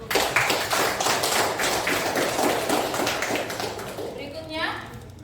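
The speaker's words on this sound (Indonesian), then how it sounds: "Kita beri aplaus dulu" A class of students applauds together in a classroom, a dense, steady patter of clapping that fills the clip, with voices mixed in and fading toward the end.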